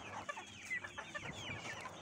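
Hens on a poultry farm cluck and chirp softly in a quiet, distant chorus, with short overlapping calls throughout.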